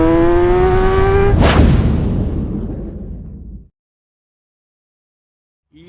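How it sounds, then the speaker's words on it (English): A Yamaha R6 sport motorcycle on a fresh suspension setup revs hard and sweeps close past in a loud rising-then-falling rush, its engine note fading away over a few seconds into silence. "I'm taking the R6 out on its first ride with a new suspension setup"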